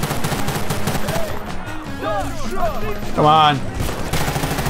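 Burst gunfire in the Battlefield Bad Company 2 video game: short clustered volleys of shots over game noise, with a voice talking briefly in between.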